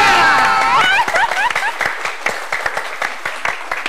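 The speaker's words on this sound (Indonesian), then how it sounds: "Tepuk tangan." An audience on an Indonesian talk show breaks into applause: a voice opens the clip, then a loud burst of crowd clapping builds and settles into scattered sharp claps.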